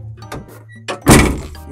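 A door in a farm-themed video game falls with a heavy, hollow thunk. A few small knocks come first, then one loud thud lands and rings out briefly.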